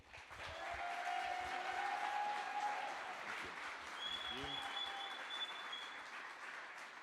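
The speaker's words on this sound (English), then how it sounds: "please give a warm round of applause and welcome to the stage, Connor Boyack." A festival crowd applauds to welcome a speaker to the stage, steady sustained clapping at moderate distance, with a few whistles and cheers rising over it.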